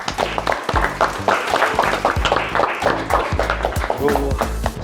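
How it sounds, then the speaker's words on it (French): A crowd claps steadily over a thumping rhythmic music beat as a speaker is introduced at an entrepreneurship panel event, the applause dense and continuous throughout. "un tonnerre d'applaudissements pour Nathan Amram"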